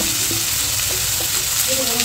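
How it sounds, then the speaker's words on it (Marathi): Spice masala roasts in a hot pan with a steady, close crackling sizzle, broken by small scraping stirs of a utensil, and no talk over it. "छान लाल भाजून घ्यायचा सगळा मसाला."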